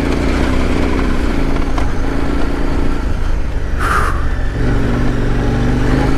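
A KTM 1090R motorcycle ridden on mountain trails near Mammoth, its engine droning steadily and loudly throughout with a brief higher whine midway, and no talk.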